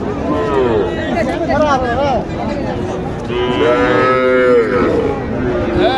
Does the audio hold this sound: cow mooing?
yes